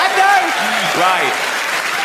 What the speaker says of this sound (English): you get a round of applause for not shitting yourself